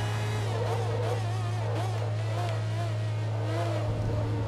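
Forza Motorsport 2 race car engine droning steadily, its pitch wavering up and down with throttle changes over a constant low hum, loud and continuous with no voices.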